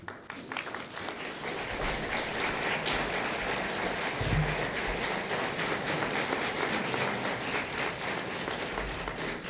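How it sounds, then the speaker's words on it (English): An audience at a city council committee hearing on short-term rental legislation claps steadily for about nine seconds, a moderately distant, even patter of many hands with no talk over it. "You guys keep applauding"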